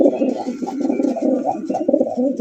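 Chila pigeons at a farm coo steadily in a dense, overlapping chorus of low throaty calls, close and fairly loud, with no voices over them.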